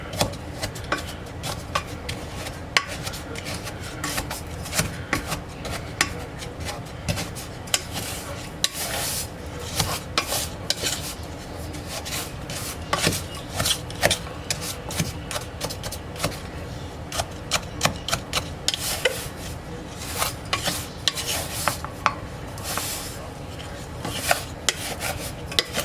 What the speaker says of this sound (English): we're going to get this busted up and stirred together here.